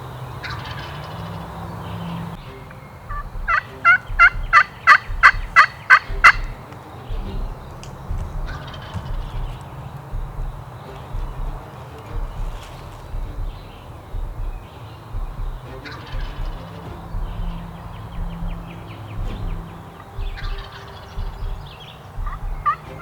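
Wild turkey toms gobble in a rapid rattling burst from moderate distance over an open pasture, followed by quieter scattered calls and a steady low rumble of background noise.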